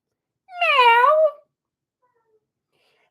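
A human voice imitates a cat with a single drawn-out, wavering meow, clear and close, followed by silence.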